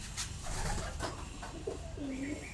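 Homer pigeons coo softly at close range, giving a few low, rounded throaty calls over a faint background murmur.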